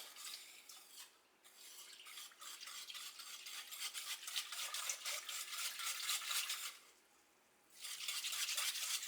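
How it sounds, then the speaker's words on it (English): A spoon or stainless steel whisk stirs pickle brine in a pot, giving repeated soft swishing and scraping strokes that pause briefly before resuming. "Gonna stir this up."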